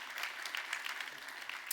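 Brief burst of audience applause for a keynote speaker at a European employment and social rights forum plenary, steady close claps with no letup.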